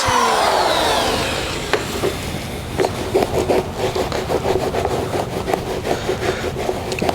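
A stiff-bristled brush scrubs a filthy car interior carpet with light pressure, giving loud, close, rapid rhythmic scratchy strokes that follow a brief sweeping rush at the start.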